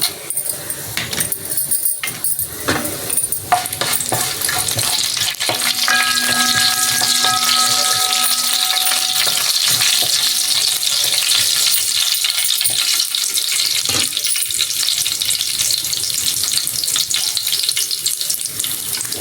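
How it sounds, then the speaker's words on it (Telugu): Steady, loud sizzling of tempering spices and dried red chillies frying in hot oil for spinach dal, continuous throughout with occasional stirring clatter and no talking. "కాలింపులు వేగుతున్నాయి కదండి"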